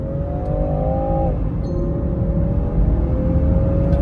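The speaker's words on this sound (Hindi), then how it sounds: "स्पोर्ट मोड में तो है गाड़ी, सुनो भी।" Car engine in sport mode revving through a downshift, a steady, fairly loud drone that rises and falls in pitch, with no talk over it.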